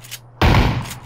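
A single sharp sniper rifle shot in the battle royale game PUBG cracks loudly after a brief quiet, followed by a short decaying echo.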